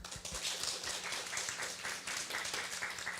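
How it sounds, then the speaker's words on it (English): Audience applause at an international environmental education workshop session, a steady wash of many hands clapping that fills the whole stretch at moderate level, with no voices over it. "Let's give a round of applause for all of our speakers and Professor Zhang for moderating the session."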